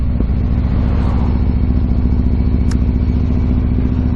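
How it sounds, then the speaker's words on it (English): A Yamaha MT-01 motorcycle rumbles along a road on a morning commute, its big twin engine thumping in a loud, steady low-pitched pulse with wind rush over the top and a brief sharp click partway through. "Trying to concentrate on riding a motorbike as well."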